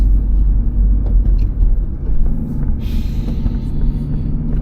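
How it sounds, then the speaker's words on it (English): Car engine running, heard from inside the cabin as a loud, steady low rumble with slight fluctuations and no talking. "I'm listening to a car."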